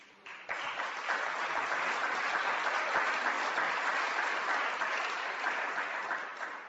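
Sustained applause from an audience at a church event, a steady dense wash of clapping that swells in after a brief pause and continues evenly for several seconds.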